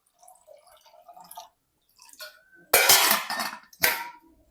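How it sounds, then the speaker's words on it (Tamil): About half a litre of water splashes and pours into a pot for tomato rasam in two loud bursts, preceded by faint clinking of kitchenware. "நான் ஒரு அரை லிட்டர் அளவுக்கு தண்ணி ஊற்றுறேன்"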